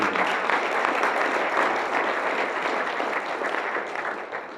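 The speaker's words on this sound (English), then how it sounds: "So I'd really like to give him a round of applause" Audience applause at a Toronto blockchain evening panel, a steady broad wash of clapping for the event organiser that holds for several seconds and fades slightly toward the end.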